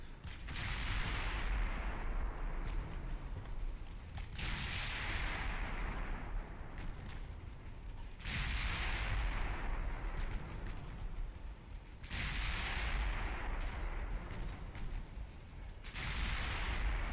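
Naval guns fire in the video game Ultimate Admiral Dreadnoughts: heavy booming salvos about every four seconds, each a loud blast followed by a long rumbling decay over constant low background roar.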